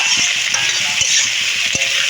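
Sliced onions fry in hot oil for a Bengali-style mutton curry, a loud continuous sizzle broken by several sharp knocks of a spoon stirring the pan, close up.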